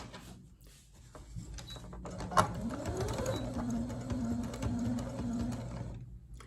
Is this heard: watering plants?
no